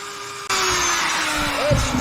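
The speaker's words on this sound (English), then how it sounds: "make room for the router so I can route out this one and this one" A power router starts up abruptly and whines steadily at close range, routing out a damaged plank on a wooden boat for repair lozenges; its loud high motor drone runs continuously with slight pitch shifts as it cuts.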